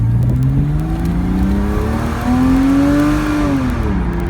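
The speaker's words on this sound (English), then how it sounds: "there is nothing like the top down in the morning and the sound of a Porsche flat 6" A 2005 Porsche Boxster's flat-six engine revs up and eases off in a smooth, loud, throaty rise and fall, heard from close by.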